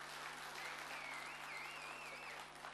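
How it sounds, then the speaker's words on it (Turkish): An audience at a Bingöl community association evening applauds in a continuous, even patter of many hands, heard faint and distant with a low hum beneath it and a thin whistle-like tone drifting over the top. "Sayın Hüseyin Balcı geliyor alkışlarınızla."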